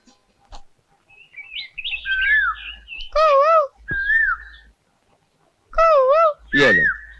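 A voice imitates a koel's call with rising, warbling whistled phrases in several bursts, interspersed with brief pauses and quieter background noise.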